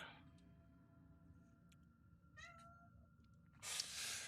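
A house cat gives a soft, brief meow up close against a quiet background, with small ticks and a loud burst of rustling at the end.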